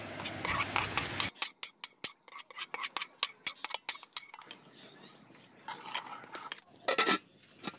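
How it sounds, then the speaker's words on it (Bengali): Khichdi is moved into a cooking pot with a metal spoon, making a run of sharp clinks and scrapes against the vessel, then softer spoon taps and shuffling, close by with no talk. "এবারে একটা হাঁড়ির মধ্যে আমি খিচুড়িগুলোকে দিয়ে দিলাম"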